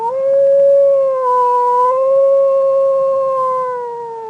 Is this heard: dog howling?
yes